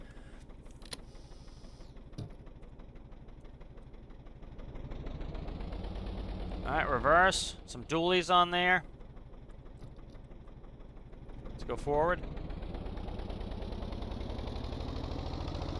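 A dump truck in the vehicle-building game Stormworks idles and drives with a low, steady, heavy engine drone that builds as it moves, with a few brief mechanical whines, under someone talking.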